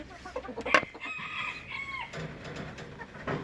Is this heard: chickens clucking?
yes